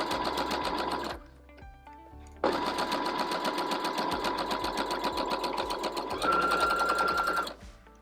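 A sewing machine stitches a garment seam with white thread in a loud, continuous motor whir, broken by a short pause before it resumes and runs to the end.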